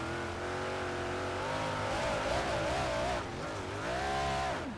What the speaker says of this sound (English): Listen to the throttle. He gassed it up so he could just stay out of the fence.